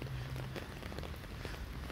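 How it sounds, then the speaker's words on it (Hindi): Steady rain falls on a midday in Canada in August, a dense even patter on surfaces that stays loud and constant throughout with no voices. "और यहाँ बारिश लगी हुई है"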